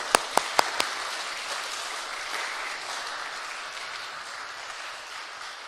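A church congregation at a Sunday service applauds to welcome the pastor, opening with a few crisp separate claps that swell into dense, sustained applause filling the room at moderate volume.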